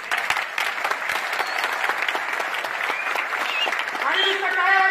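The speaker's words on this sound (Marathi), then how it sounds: "नको तुमच्या टाळ्या. कंटाळा येतो मला या टाळ्यांचा" An audience claps in steady, dense applause after a political speech, loud and sustained for several seconds, with a voice starting to speak over it toward the end.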